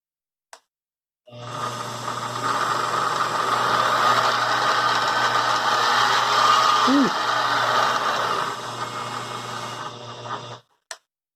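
A SIEG X2D mini milling machine motor starts up and runs with a loud, steady mechanical whine and gear hum for about nine seconds, then switches off, with faint clicks of the switch before and after.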